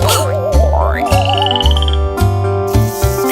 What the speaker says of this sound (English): Hello, frog in bear's sack.